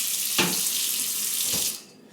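Cold tap water runs steadily into a sink over raw turkey feet, a close, even rushing hiss broken by two short splashes before it cuts off.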